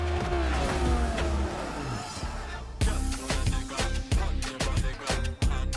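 Lamborghini-style sports car in Cyberpunk 2077: the engine hums steadily, then revs hard through a series of sharp throttle blips and gear changes, loud and close.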